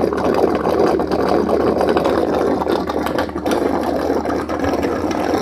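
An appliance pump draws out the liquid inside, a loud, steady churning motor drone with gurgling, rattling texture that runs without a break.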